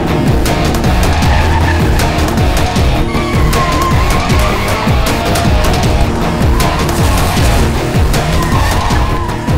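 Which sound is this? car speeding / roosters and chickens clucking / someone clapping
car speeding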